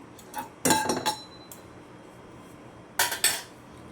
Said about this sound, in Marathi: ओला खोबऱ्याचा खीस घालते बाऊल खीस घातलेला आहे खोबऱ्याचा हलवून घ्यायचं आहे